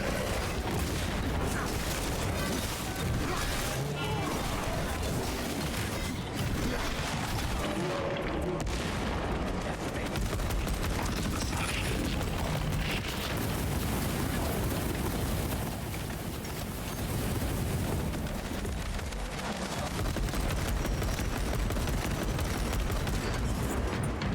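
Dense, continuous battle noise from Warhammer 40K: Space Marine II, with a grenade blast buried among rolling booms, gunfire and explosions that stay loud across the whole stretch.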